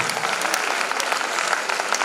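Audience applause at a college annual function, a dense, steady wash of many hands clapping together, sustained throughout.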